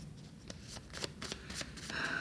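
A deck of oracle cards shuffled by hand, a soft series of quick papery riffles and flicks close by, faint and unaccompanied by talk.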